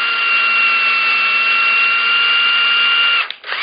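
A power drill runs at low speed tapping threads in lubricated material, a loud steady whine that holds for about three seconds before slowing and stopping.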